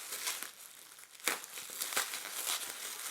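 Two sheets of bubble wrap around a Denby Monsoon Cosmic butter dish crinkle and crackle as a penknife cuts through them, a steady close rustle with a few sharper crunches and no voices.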